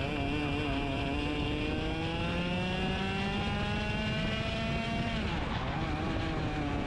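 Racing karts at an IKC round race down the back straight in a slipstream. Their engines hold a loud, continuous droning whine that slowly rises and dips in pitch throughout, with no voices.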